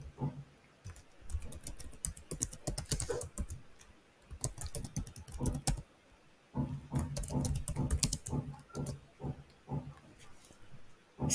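Quick bursts of clicking keystrokes on a computer keyboard as a password is entered, coming in two clusters separated by a short pause, close and fairly quiet.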